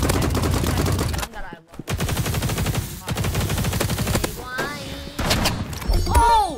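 Rapid automatic gunfire in the Roblox game Rivals, bursts of fast repeated shots with brief pauses, overlapping game effects and a player talking excitedly over the shooting.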